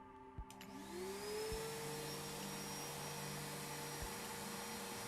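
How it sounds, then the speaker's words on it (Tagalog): A vacuum cleaner starts up after a couple of clicks, its motor whining up in pitch and then holding a steady, loud drone. "So now I'm going to turn the vacuum again."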